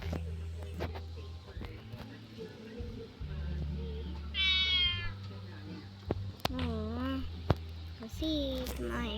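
A domestic cat meows several times in short rising and falling calls at close range, mixed in with people talking and a voice in a room.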